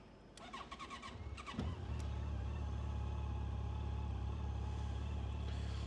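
A Yamaha FJR 1300 motorcycle with 39,000 km on it cranks briefly with a quick starter whir, then catches and settles into a steady, even idle, close and continuous.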